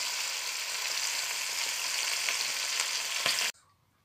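Salaka fish frying in a pan, a loud dense sizzle that runs steadily and then cuts off abruptly near the end, leaving a faint low hum.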